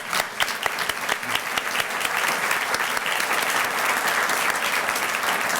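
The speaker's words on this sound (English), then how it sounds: "we'd like to give you some applause for your work" Audience applause for task force members at a State of the County address starts with scattered individual claps and swells into a full, steady ovation across the room.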